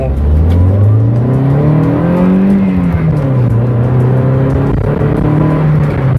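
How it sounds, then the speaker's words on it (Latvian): A used car's engine revs hard and loud during a pre-purchase check, the pitch climbing, dipping, then holding at high RPM, close by. "pagāzēt, pagriezt motoru, paklausīties, kā mašīna, teiksim, uzvedās uz augstiem apgriezieniem"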